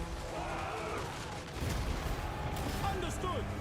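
Mortars fire during a Total War Warhammer III battle with the SFO mod: a dense battlefield din of distant blasts and crackling gunfire, which swells with heavier low thuds partway through, mixed with faint unit voices.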